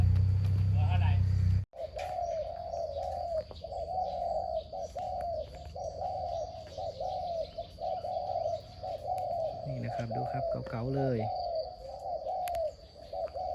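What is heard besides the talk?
cooing decoy doves, long-cooing birds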